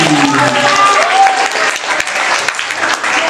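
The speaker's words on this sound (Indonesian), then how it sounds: "Terima kasih, kasih tepuk tangan sekali lagi." Loud audience applause at a Muslim religious gathering (pengajian), a dense sustained burst of clapping from a crowd with a voice speaking over the start, tapering slightly toward the end.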